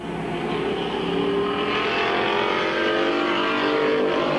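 Race cars at Midvale Speedway circle the track, engines droning loudly and continuously with rising and falling pitch as they pass nearby, no talk over the roar.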